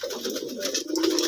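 A pigeon coos close by in a soft, continuous throaty call, with no talk.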